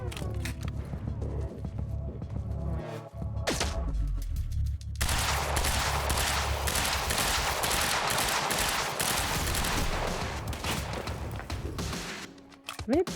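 Gunfire in the video game Quantum Break: a few scattered sharp shots early, then a dense, loud burst of rapid automatic fire that runs steadily for several seconds before cutting off near the end.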